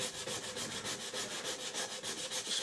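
Fine woven emery cloth rubs back and forth on the rough, rusty metal barrel of a Crosman 760 airgun, making quiet, even scratchy strokes at a quick regular pace.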